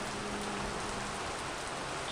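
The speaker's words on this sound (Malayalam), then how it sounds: "മഴ പെയ്യുന്ന കണ്ടോ" Steady rain pours down, a dense, even hiss of drops striking surfaces, continuous and fairly close with no pauses or voices.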